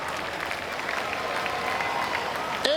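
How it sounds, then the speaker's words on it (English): Steady applause and cheering from the crowd at a Midget car race feature, sustained and dense throughout, with a brief sharper burst near the end. "Can you guys give yourselves a massive round of applause?"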